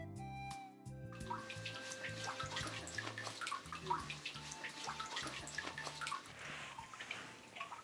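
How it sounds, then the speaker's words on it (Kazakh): Spring water drips at the foot of Kokosem peak in the Ustyurt reserve, Mangystau, as faint, scattered drops and a soft trickle over a quiet, low background. "Бұлақ мынандай тамшылар арқылы ғана көбейіп отырады екен."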